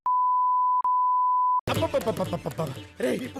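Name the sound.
censor beep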